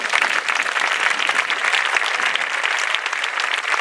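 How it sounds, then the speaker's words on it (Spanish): Loud, dense applause from a crowd at an outdoor anniversary celebration for Projecte Home Balears in 2017, continuous and close without a break. "M'agradaria que donassi un fort aplaudiment per la gent que s'ha currat tot això."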